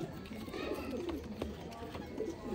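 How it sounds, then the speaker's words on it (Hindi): Flying pigeons bred for endurance coo repeatedly in a loft, low throaty calls rolling on over a murmur of background voices and faint clicks. "ये परवाज के बादशाह कबूतर है, परवाज के बादशाह।"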